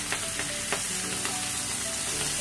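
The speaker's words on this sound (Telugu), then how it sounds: "ఇప్పుడు ఇదే ఆయిల్ లో ఫ్రెంచ్ బీన్" French beans fry in the oil left over from frying paneer, a constant close sizzle with light crackles and stirring, with no one speaking.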